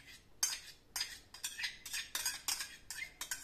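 A spoon clinks and scrapes against a cup in quick, irregular strokes, about eight bright metallic taps over a few seconds. The sound is close and fairly quiet, with no one speaking.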